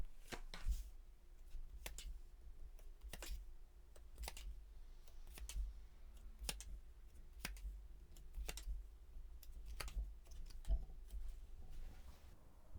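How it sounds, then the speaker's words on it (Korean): Tarot cards drawn and handled during a love reading, a string of quiet, sharp flicks and soft shuffling snaps spread through the clip over a faint low background hum, with no talking. "잠시 마음 편안히 가지시고 심호흡 하시는 동안 제가 카드 뽑아볼게요"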